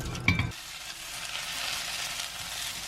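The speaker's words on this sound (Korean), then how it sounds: "올리브 오일을 두르고 양파 노릇노릇하게 볶아줍니다." Onions sizzle steadily in hot olive oil in a pan, a close, bright frying hiss that holds throughout after a brief clatter of stirring at the start.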